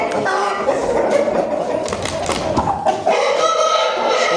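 Chickens clucking close by amid a busy, noisy crowd, with a steady background hubbub throughout.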